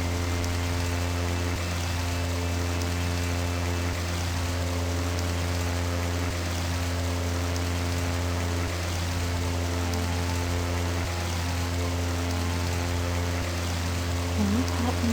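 Steady running water at a waterfall in the game I Have No Mouth And I Must Scream, a continuous rushing wash mixed with a low droning hum, unbroken and even in loudness.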